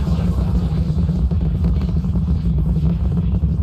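Distant Starship Super Heavy rocket engines heard from about six miles away, a continuous deep low-frequency roar and rumble that stays steady and loud throughout, with no talk over it.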